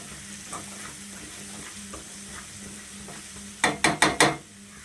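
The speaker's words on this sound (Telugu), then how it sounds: "కారం అయితే మనకి వేగిందండి." Chili powder frying in a pan for cauliflower curry: a soft steady sizzle with light stirring scrapes, then four quick loud scraping strokes of a spatula against the pan near the end.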